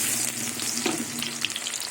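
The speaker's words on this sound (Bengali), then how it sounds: "আমি পেঁয়াজগুলো দিয়ে দেবো" Onions frying in plenty of hot oil in a wok, a loud continuous crackling sizzle with occasional pops and a brief scrape, no talking.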